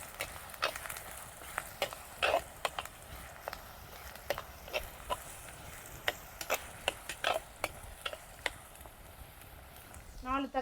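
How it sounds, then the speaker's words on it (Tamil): Onions sautéing in a pan for Tamil fish gravy (meen kulambu), with a soft steady sizzle under repeated sharp clicks of a spoon stirring and scraping against the pan. "ஒரு 5 minutes வெங்காயம் வந்துட்டு நல்லா வதங்கட்டும்."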